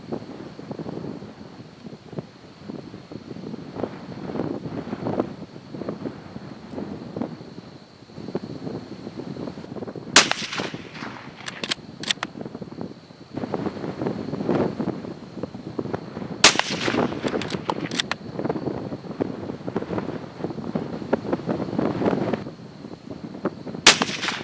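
Two loud P-14 rifle shots, firing 174 grain Hornady round nose .312 bullets over 41 grains of Reloader 15, crack out about six seconds apart at an outdoor range over steady gusting wind noise.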